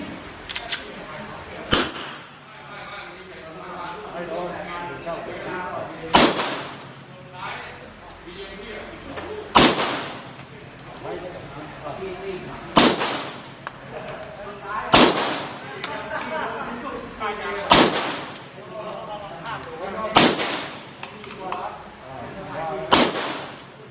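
A gun fitted with an Olight weapon light fires indoors, with about nine sharp loud shots spaced a few seconds apart over a background of ongoing talk.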